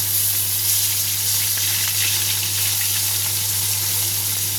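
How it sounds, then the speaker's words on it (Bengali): Katla fish fillet sizzling in hot oil in a pan, a steady loud frying hiss that runs unbroken throughout with a constant low hum underneath and no talking. "তো মাছের এক পিঠ ভাজা হয়ে গেছে দেখো। এবার মাছটাকে উল্টে দিচ্ছি।"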